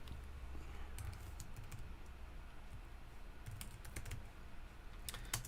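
Steady typing on a computer keyboard during a programming lecture, a continuous run of close, light key clicks with no talking.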